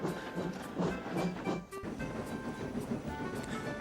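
Steam tank engine puffing along a railway, with steady hissing steam and rhythmic chuffs over a rumbling, clattering background.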